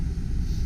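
Heater fan in a 2004 Pontiac Montana cargo van blowing hot air, a steady close broadband whoosh with low rumble, brief and continuous.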